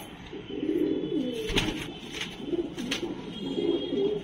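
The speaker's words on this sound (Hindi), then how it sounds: "काला भौरा कबूतर है" Soft, repeated cooing of pigeons, including a black Bhoura pigeon, rolls on steadily, with several overlapping low coos and occasional light wing flutters or clicks nearby.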